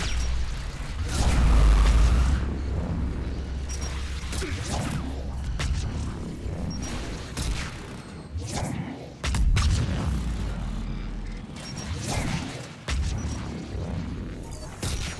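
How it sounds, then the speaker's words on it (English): Heavy booms and crashing blasts repeat irregularly with whooshing rumbles between them, loud and low, like cannon fire and shockwaves rolling through a Mass Effect 3 battle. "I'm getting hit by the shockwave of the cannon blasts."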